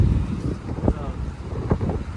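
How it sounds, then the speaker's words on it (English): Strong, steady wind buffets the microphone with low rumbling gusts, and faint voices can be heard underneath. "If you cannot hear us, it's because it's really windy."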